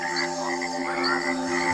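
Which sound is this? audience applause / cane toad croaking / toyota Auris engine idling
cane toad croaking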